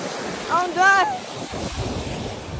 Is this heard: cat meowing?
no